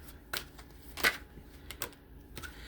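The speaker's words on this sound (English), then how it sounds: "Let's shuffle some more." Tarot cards being shuffled by hand: a few short, crisp riffling bursts spaced across a quiet stretch, close and fairly soft, with no talking.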